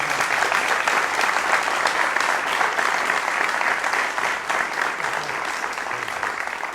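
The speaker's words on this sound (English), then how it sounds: "First of all, I want a little applause for this." Sustained applause from a seated audience at a cello interpretation class on Beethoven's Cello Sonata No. 3, steady and dense throughout, easing slightly toward the end.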